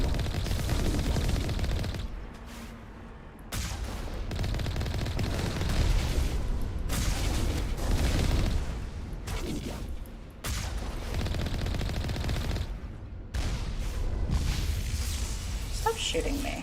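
Video game gunfire directed at the player, with bursts of automatic shooting and heavy booms filling most of the stretch, broken by a few brief lulls, while a voice talks over the action.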